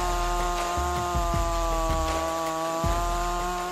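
A Stihl MS 500i chainsaw with a 36-inch bar cuts through wood, its engine holding a steady high drone with several short bites and bogs as the chain loads into the cut.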